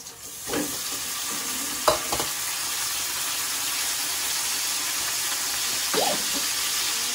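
Ground meat hits a hot frying pan with a loud, steady hiss that carries on evenly, broken by a few clinks and scrapes of stirring.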